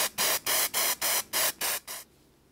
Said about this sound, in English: Spray it with adhesive.